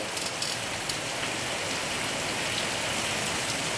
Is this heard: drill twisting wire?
no